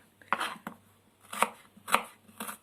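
A knife chops courgettes and other vegetables on a board in a few sharp, separate strikes, close by and quiet, with an uneven rhythm and no talking.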